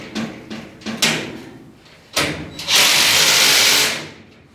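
Power tool work bolting two overhead garage shelf panels together: a few short clicks and clunks, a quick whir, then a loud sustained burst of driving near the end, close and without talk.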